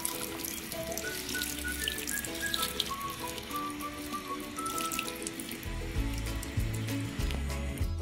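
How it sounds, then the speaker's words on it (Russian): About a litre of water is poured into an Afghan kazan of chicken shurpa, a steady splashing, gurgling stream that runs throughout, with a deeper rumbling fill toward the end. "Сейчас заливаем где-то литр воды."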